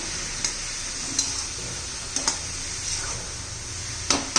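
Sliced cabbage and green peas stirred in a pan, making soft sizzling with repeated light scrapes and taps of a spoon on metal, spaced about every second.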